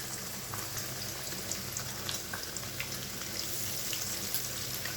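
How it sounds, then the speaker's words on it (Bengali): Eggs frying together in a pan of hot oil, a soft continuous sizzle with faint crackles and pops, quiet and alone. "আমি আর আলাদা ডিমটা ভাজিনি, একসঙ্গে ভেজে দিচ্ছি।"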